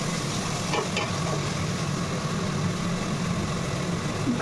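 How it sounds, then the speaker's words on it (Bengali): Mutton sizzles steadily in a pan with a constant frying hiss, and faint scrapes of stirring sit underneath. No one speaks. "মামুনি মটন রান্না করছে"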